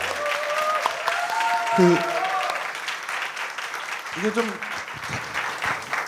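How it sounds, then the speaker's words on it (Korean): Audience applause in a Korean talk show studio, a dense steady patter of clapping lasting several seconds, with a voice speaking briefly over it. "박수 한번 주세요."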